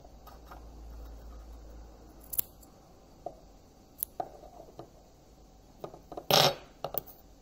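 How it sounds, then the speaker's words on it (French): Scissors trimming cotton wicking for a dual-coil vape atomizer, a few sparse, close snips and ticks, ending in one sharp louder cut, with quiet handling between them. "On va lui redonner un petit coup de ciseau"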